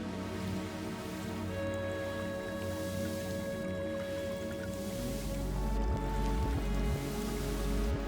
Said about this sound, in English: Look at the water flowing on it.